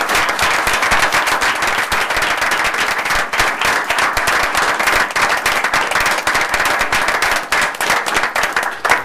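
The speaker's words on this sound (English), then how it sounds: "she deserves a round of applause as well." Sustained applause fills a board meeting room, dense and loud clapping from a crowd continuing steadily without pause and with no talk over it.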